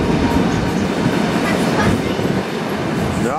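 The Sauschwänzlebahn heritage train rolls through the Wutach valley with a loud, steady rumble and rhythmic wheel clatter heard from on board, continuous and close throughout.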